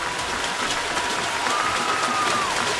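Mustangs baseball fans applaud at a high school region finals game, a steady wash of clapping from a crowd heard at a distance, with a faint whistle-like tone running through it.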